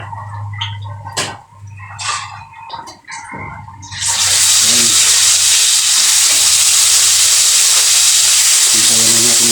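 Small dalagang bukid (red-belly yellowtail fusilier) pieces dropped into hot oil, bursting into a loud, steady sizzle midway that continues to the end after a few quieter handling sounds.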